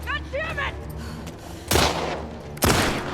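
Gunfire in The Last of Us Part II, two sharp loud shots about a second apart, each with a short decaying tail, after a few brief voiced sounds at the start.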